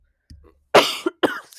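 One person coughs twice in quick succession, loud and close. The coughs are harsh and bursty, preceded by a faint throat noise, with silence between them and no speech.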